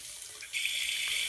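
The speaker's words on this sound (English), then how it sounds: "Then place the bottom of the reservoir someplace convenient to drain." Water pours steadily from the bottom of a pBuddy reservoir as it drains, starting abruptly as a close, loud rushing stream like a running tap.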